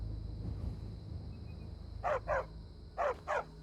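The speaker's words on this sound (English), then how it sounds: "It's barking at me." A town dog in the video game Skyrim barks at the player, two pairs of sharp mid-pitched barks in quick succession over a steady ambient game hum with a faint high tone.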